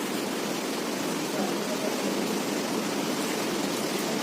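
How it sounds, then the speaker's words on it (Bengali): Water is poured into a glass in an even, continuous splashing hiss that stays steady and fairly quiet throughout, with no voices over it. "দুটো গ্লাসে সমপরিমাণ জল ঢালবো"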